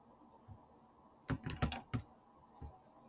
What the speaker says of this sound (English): when we type this in our calculator